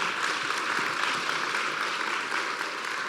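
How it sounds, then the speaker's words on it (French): Moderate, steady applause from a conference audience thanking a professor after a talk on autoimmune diseases, a continuous wash of clapping without pauses or voices. "On vous applaudit encore"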